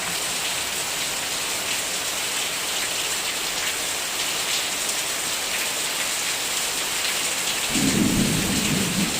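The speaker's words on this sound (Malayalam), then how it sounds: "സൂപ്പർ മഴ, സൂപ്പർ അടിപൊളി മഴ" Heavy rain pours steadily in a windy late-afternoon storm after a hot day, and a deep roll of thunder rumbles in near the end.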